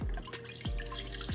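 Water is poured from a pitcher into the pot of a rice cooker, a quiet splashing trickle with a few distinct drip-like plunks.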